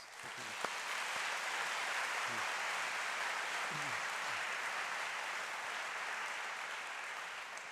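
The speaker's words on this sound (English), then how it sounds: "Let's give them a round of applause" Large convocation audience in a hall giving sustained applause, a broad, even roar of clapping that holds steady for nearly eight seconds.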